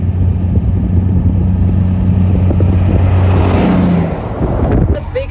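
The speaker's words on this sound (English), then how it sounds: "The biggest thing we've ever seen, biggest truck." Large oversized road truck rumbling past at close range with escort cars, a steady loud engine drone with low harmonic tones that fades and drops off after about four seconds, ending with a brief knock.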